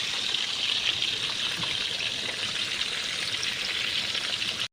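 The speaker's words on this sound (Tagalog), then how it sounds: "Lutuin lang natin yung kabila. Luto na ang fried na sapsap." Sapsap fish frying in a pan of oil, a dense, steady crackling sizzle that runs continuously at close range before cutting off abruptly at the end.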